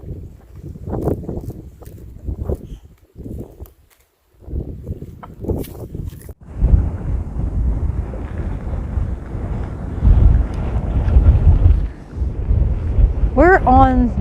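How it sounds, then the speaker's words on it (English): Wind gusting across Rutherford Beach on the Louisiana coast, a steady broadband roar buffeting the microphone for most of the stretch after some early quiet talk, with a voice speaking near the end. "We are on Rutherford Beach in Louisiana."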